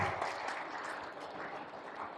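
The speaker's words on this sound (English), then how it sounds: "a big round of applause" A crowd gives Dr. Masaha a round of applause, soft and fairly distant, with a continuous patter of many clapping hands and no talk.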